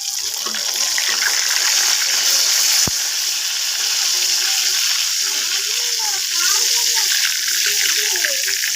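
Fish sizzles and crackles steadily as it fries in hot oil in a home kitchen, a close, loud, continuous spitting hiss while a person talks over it.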